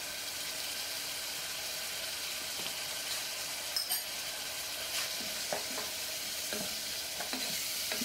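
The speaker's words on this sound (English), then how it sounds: "mix the hot pepper flakes well with the other ingredients" Stirring hot pepper flakes into Korean spicy beef soup ingredients in a pot, with soft scraping and a faint sizzle, intermittent spoon knocks and clicks toward the end, no talk.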